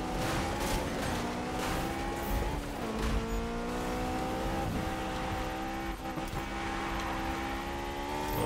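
Tires squeal continuously as a car drifts in the Need For Speed 2015 video game, a loud sustained screech layered over a steady engine drone with shifting pitch, no talking.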